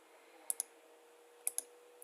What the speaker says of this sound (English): I'm going to right click on it and go Sketch